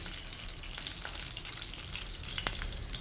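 Oil heating in a pan before onion goes in for a Bengali tamarind fish-head chorchori, a soft, steady crackling sizzle with occasional sharper pops, fairly quiet and without speech.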